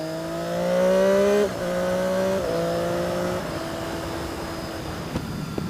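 Sport motorcycle with a quick shifter, either a 2014 Triumph Daytona 675R or a 2014 BMW S1000RR, pulls hard through several gears. Each engine whine climbs, then drops sharply at a clean upshift, loud and close.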